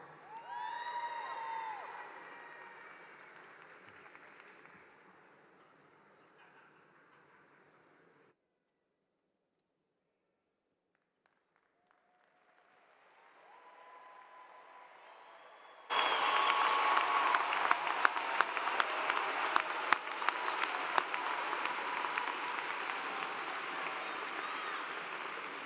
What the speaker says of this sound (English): How about another great big round of applause for our newest bachelor's students?